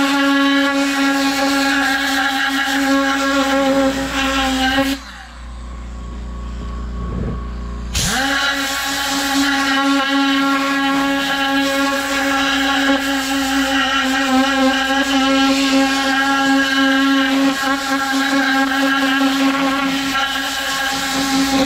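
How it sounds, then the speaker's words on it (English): An air compressor blows soap spots out of rubber floor mats with a loud, steady hiss over a droning motor. It cuts out for about three seconds partway through, then resumes at full strength. "what we're gonna do is hit it with the air compressor to blow out all these soap spots"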